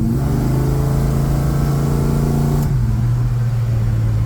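A car engine revs hard and loud inside a Quonset hut, a strong droning growl that holds steady and then drops slightly in pitch as the revs ease, with the curved metal building booming around it.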